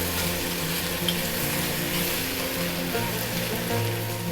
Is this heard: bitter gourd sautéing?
yes